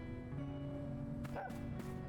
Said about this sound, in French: Ah, y'a un toutou.